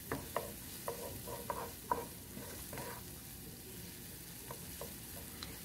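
About half a cup of onion sautéing in a pan for a steak and vegetable stir-fry, a faint low sizzle under irregular spoon or spatula taps and scrapes, with no voices.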